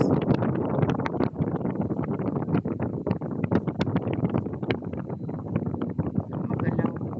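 Strong wind buffets the microphone in steady, rumbling gusts throughout.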